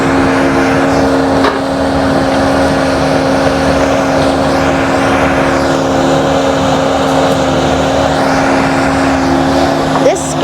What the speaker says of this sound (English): This skid steer is very powerful and it's very noisy and it's very loud.